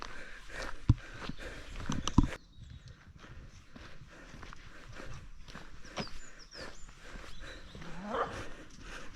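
A dog on the main trail through the disused Devon Great Consoles copper and arsenic mine, with a couple of sharp, close sounds early on, then quieter rustling and footsteps outdoors and no talking.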